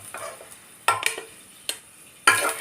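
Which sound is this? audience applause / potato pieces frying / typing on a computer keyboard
potato pieces frying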